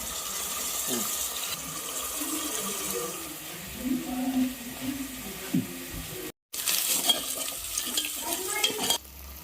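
Grated coconut being stirred and fried in a pan, a steady soft sizzle with scraping stirring sounds, close by, with occasional voices in the background.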